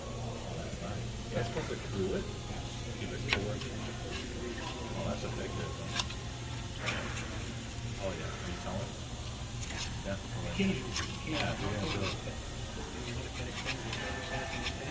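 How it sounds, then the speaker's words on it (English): A gasket scraper scrapes old gasket material off the rear differential cover of a 2017-or-later Ford Super Duty with a Dana M275 axle, giving rough, rasping strokes under a steady hum while someone talks. "I'll use a gasket scraper that I got from Cornwell"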